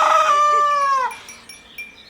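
A rooster crows once loudly and close by, a long rising-then-falling harmonic call lasting about a second, followed by quieter farmyard background with a faint second call in the distance.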